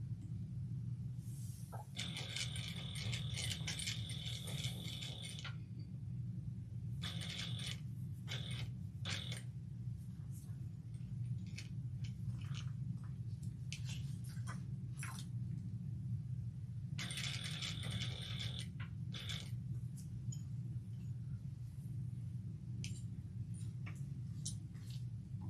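A sewing machine tacking a seam at 1/8 inch on a mini convertible garment, running in several bursts of rapid whirring separated by pauses, over a steady low hum.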